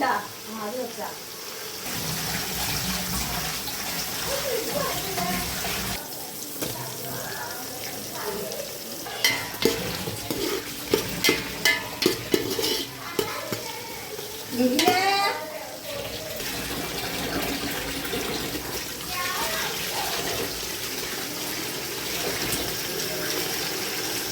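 A mother washes dishes under running tap water, a steady wash of water broken by clattering and clinking of pots and plates, with people talking nearby.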